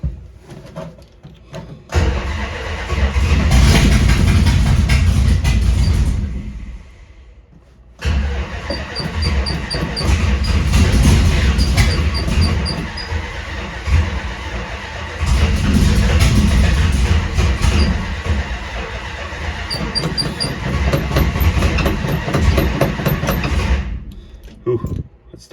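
Plymouth Belvedere engine grinding over on its starter in long, loud bursts with a brief pause between attempts, sustained churning rumble with mechanical clatter, no clear catch.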